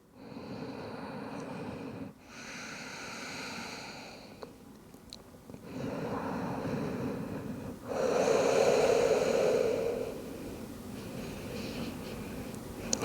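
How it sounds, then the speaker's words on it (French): Slow, audible breaths in and out during a yoga child's pose, close and soft, alternating in long swells of several seconds each, with no talk. "Prenez quelques respirations dans Balasana."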